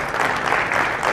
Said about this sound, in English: And let's give him a big applause.